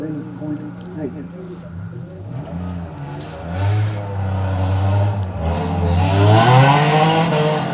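A Datsun 1600 race car on a tight-turn section of a lakeside hillclimb, its engine revving and rising as it closes in, with tyre noise and a commentator talking over it throughout.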